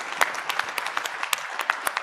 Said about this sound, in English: If I can also request all of you to give a round of applause to the panelists